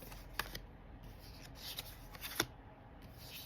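A tarot card deck being shuffled by hand, soft papery riffles and rubbing with a few sharper card snaps, close and quiet with no talk.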